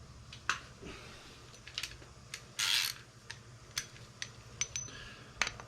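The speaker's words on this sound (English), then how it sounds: "I'm just going to tighten it." Tightening a bicycle bottom bracket with a wrench: quiet metallic clicks and ticks at irregular intervals with one brief ratcheting burst, close and faint against a low background hum, no voices.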